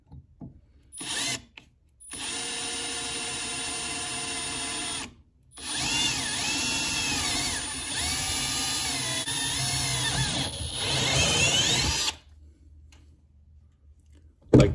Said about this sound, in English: That should be a strong enough of a divot to guide that drill bit.